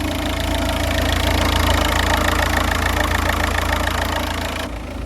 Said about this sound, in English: So the van's been running for a good 5 minutes now. Let's go see if it's got high idle